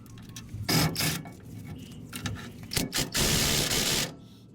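A ratchet works on the drive shaft pinion yoke bolts of a 1991 Ford F-150 in bursts of quick clicking and metallic rasping, separated by short pauses and faint handling noise.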